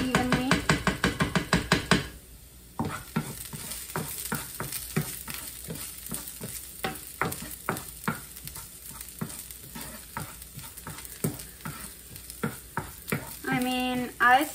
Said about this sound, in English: Keep the sauce moving